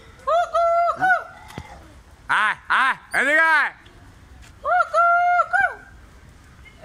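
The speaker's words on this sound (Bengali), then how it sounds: "হুল্লুক" A hoolock gibbon gives loud, rising whooping calls in rainy outdoor surroundings. They come in several short bursts of harmonic hoots that swell and repeat, with people talking nearby between the calls.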